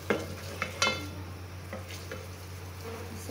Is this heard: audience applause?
no